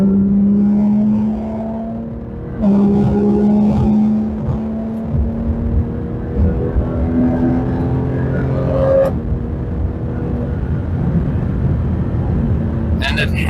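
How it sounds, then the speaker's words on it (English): A Porsche GT3 RS engine rumbles and revs, its pitch climbing and shifting through gears, loud and close, with a brief dip before it surges again. "This car just sounds phenomenal"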